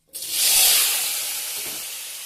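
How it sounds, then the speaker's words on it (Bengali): Boiled potatoes hit hot oil in a pan with cumin, cardamom and cinnamon, a sudden loud hissing sizzle that swells quickly and then settles into a steady fry. "এখন ভেজে নেব আলুটাকে"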